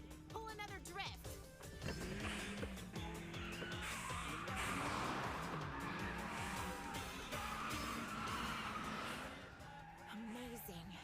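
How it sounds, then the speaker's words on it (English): Tires squeal as a car drifts through a corner in the Initial D anime, with engine noise rising and falling under excited talk and music. "Pull another drift."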